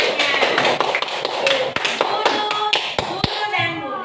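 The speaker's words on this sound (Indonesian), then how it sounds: "bintang tepuk tangan buat temannya" Schoolchildren in a classroom clap for a classmate, a quick run of sharp hand claps and taps close by, with voices talking over them.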